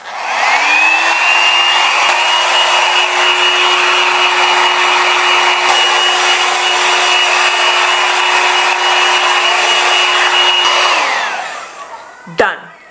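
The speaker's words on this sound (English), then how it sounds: "let's do the hair drying" Hair dryer blowing on short hair, a loud steady whooshing hum that starts up, runs evenly for about ten seconds and winds down, followed by a brief clatter.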